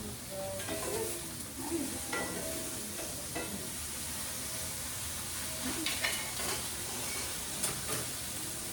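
Food frying in a hot pan while being flipped over, a steady sizzle with scattered stirring and scraping clicks, close and fairly quiet, with no talking.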